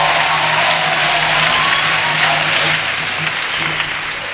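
A church congregation breaks into loud, sustained applause and acclamation, steady and dense before easing slightly toward the end, with no speech over it.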